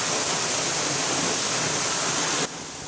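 Steady, dense rush of falling rain fills the clip, a broad hiss that suddenly drops quieter near the end.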